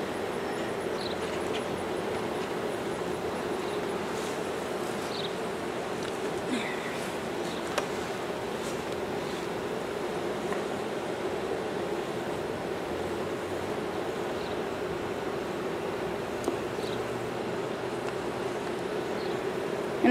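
Honey bees buzz steadily around an open beehive, a soft continuous drone with occasional individual bees passing closer, no talking.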